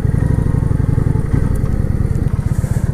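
A Kawasaki Vulcan 900 cruiser motorcycle rumbles close by with a steady, loping low engine pulse as it is ridden in and parked.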